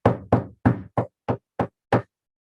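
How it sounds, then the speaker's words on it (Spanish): Knocking on a door: seven firm, evenly spaced raps in quick succession, close and loud, then silence. "Si usted oye que tocan"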